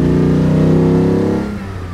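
A 1960 Mercedes 300 SL Roadster engine pulls loudly and close up a steep hill, its tone rising under acceleration before easing off.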